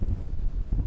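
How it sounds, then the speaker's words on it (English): Strong wind buffets a Fimi X8 SE drone flying over Plymouth Sound, a close, loud, gusty low rumble that fills the whole short moment without any talking. "It's very windy."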